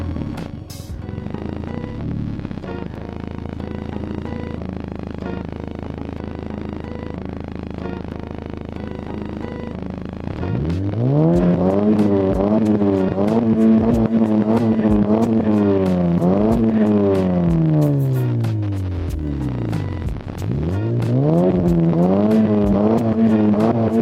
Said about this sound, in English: I hope you were able to hear the sound of the car because it does sounds really nice.